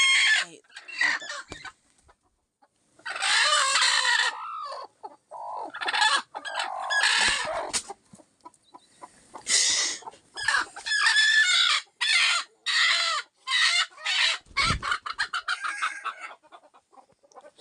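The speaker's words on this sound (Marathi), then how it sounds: "वर गावरान कोंबड्या आपण 3 अंड्यावर बसवल्या आहेत. त्यांना सोडणार आहेत आता." Free-range village hens cluck and squawk close by in repeated bursts with short gaps between them, and a rooster-like call rises among the calls.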